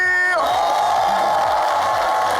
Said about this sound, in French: Tout le monde peut s'applaudir.